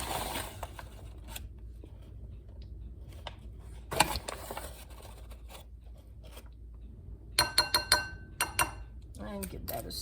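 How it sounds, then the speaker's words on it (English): Flour is stirred into a fruit tart filling in a bowl, a spoon clinking against the glass in scattered light taps, with a quick cluster of clinks near the end in a quiet kitchen. "And give that a stir, mix it all up."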